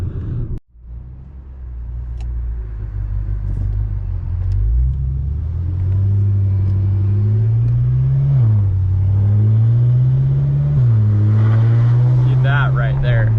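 BMW F10 M5 fitted with a new exhaust accelerating hard, its raspy engine note climbing in steady pulls with brief shift dips, loud and close from inside the cabin.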